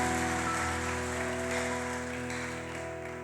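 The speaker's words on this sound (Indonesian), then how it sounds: "Boleh sambil tepuk tangan." Clapping from a church congregation during an Easter worship service, a steady patter of many hands held under sustained tonal music, fairly loud and fading slightly toward the end.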